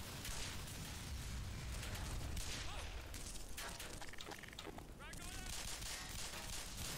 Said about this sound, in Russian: Да из чего они там по мне стреляют?